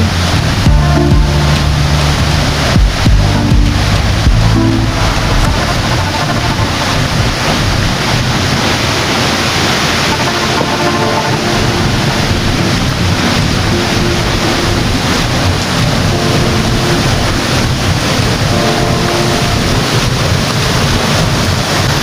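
Curug Juneng waterfall at Karangsalam, Baturraden, with rushing water roaring steadily and loud throughout, a broad continuous wash with some wind buffeting the microphone.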